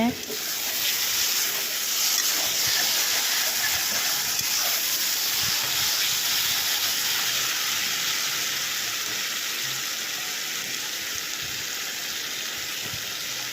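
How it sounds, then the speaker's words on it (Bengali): Chopped tomatoes sauté in oil in a pan for a tomato chutney, with a constant, even sizzle and hiss that fades a little near the end. A voice speaks quietly underneath in places. "এখন টমেটোটাকে ভালো করে কষিয়ে নেব টমেটো চাটনি বানানো হবে"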